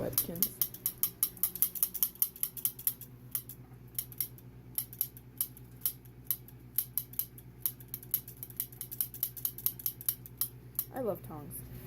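Metal kitchen tongs are squeezed over and over, giving a long run of crisp, evenly spaced metallic clacks, with a brief voice at the start and end.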